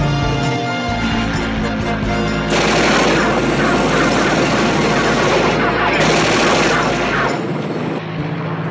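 Rapid bursts of 20mm cannon fire from a Bearcat fighter plane in an animated series, a loud dense rattling fusillade that swells midway and runs almost continuously before cutting off near the end.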